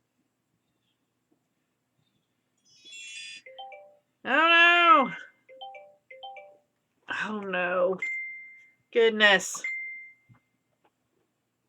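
Several short electronic chimes and beeps ring out at intervals, interleaved with a person's exclamations close by.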